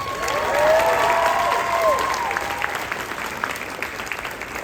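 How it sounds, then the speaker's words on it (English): Audience applause fills a hall after a high school concert band performance at a spring concert, a dense steady wash of clapping that swells early and then gradually thins, with faint tonal traces of instruments ringing out beneath it. "Have another round of applause for them"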